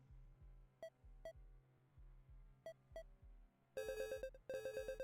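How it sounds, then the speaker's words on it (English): A synthetic electronic phone ringtone plays, starting with sparse beeps over a low pulsing pattern and then breaking into a rapid, bright repeating melody. "The worst ringtone ever."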